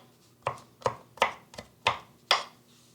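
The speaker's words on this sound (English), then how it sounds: "All you need is 3 small pieces of garlic, and you're going to cut them up like this." A knife chops small garlic cloves on a cutting board, six crisp, evenly spaced strikes, close and fairly quiet, with no talking.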